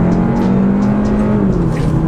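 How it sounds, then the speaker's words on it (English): Hyundai Elantra N Line accelerating under load, a loud steady engine drone with rising pitch and a faint whine from the turbo spooling up. "Just the spooling up of the turbo."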